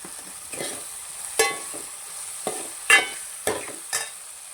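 A utensil scrapes and stirs tomatoes and onions in a pan in several separate strokes, with a soft steady sizzle underneath and no talking.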